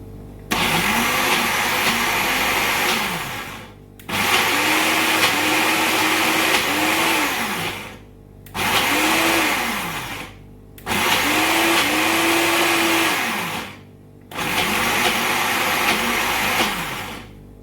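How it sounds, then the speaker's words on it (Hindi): A mixer grinder chopping chana dal (yellow lentils) whirs loudly in repeated bursts of a few seconds each, with short pauses between, its motor pitch rising and falling as it chops. "इसको जो है मैंने इसमें मिक्सी में डालते हैं, इसको चॉप करेंगे"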